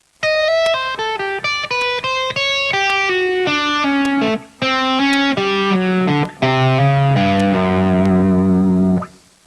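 Distorted electric guitar plays fast melodic licks built on flat fives, clear sustained notes in quick runs with brief gaps, loud and alone, ending on a ringing held note.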